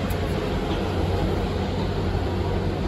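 Low, soft rumble drifting from a large construction project seen from a hotel balcony in Phnom Penh, steady and continuous, far off and broadband, with no voices.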